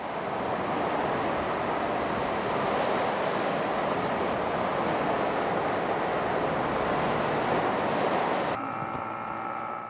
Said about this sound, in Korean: 다음 날도 역시 파도가 거세다.